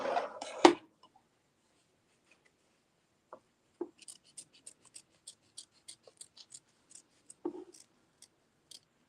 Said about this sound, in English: I'll use my hoop scissors mini. And I'm going to trim close to the tack down stitching on the inside edges of the block